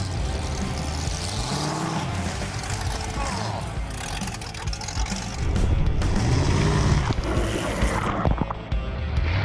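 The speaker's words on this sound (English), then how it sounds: "We're going through the water next." A Willys fitted with a 383 stroker small block Chevy plows through water with a loud engine roar that rises and falls, mixed with heavy splashing and surging, while people talk underneath.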